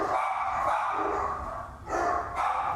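Several dogs bark in the distance, a loose overlapping chorus of yaps that swells and fades over a few seconds, with no one talking.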